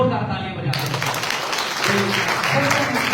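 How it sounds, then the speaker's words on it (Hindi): Loud applause from a church congregation, a dense wash of clapping that carries on the whole time with a voice heard over part of it. "जोरदार तालियां बजाते हैं।"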